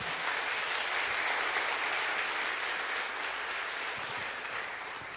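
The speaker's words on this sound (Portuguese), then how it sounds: "Você pode dar uma salva de palmas para Jesus" Sustained, dense applause fills a church during an evening Sunday service, an even wash of clapping from a congregation that slowly tapers off at the close.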